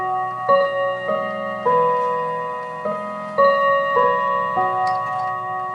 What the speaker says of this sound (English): that's the chime for the quarter 2, which is the third quarter